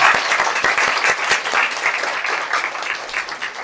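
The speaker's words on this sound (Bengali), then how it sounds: "তার জন্য ওর জন্য একটা বড় করে হাততালি।" Audience applause after a dance performance at a Teachers' Day school event, a dense steady burst of many hands clapping, fairly close and loud, with no talk over it.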